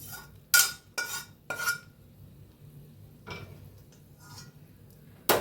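A utensil scrapes and clinks against a pan while chivda is tossed with a hot spiced tempering, in several short separate strokes with quiet gaps between them.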